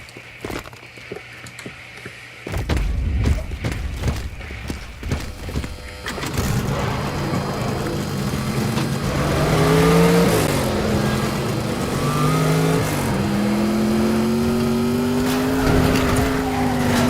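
A car in the video game Teardown 2 that starts with thuds and footsteps, then its engine roars into sustained revving with rising and falling tones, loud and close, with tire squeals and impacts layered over it.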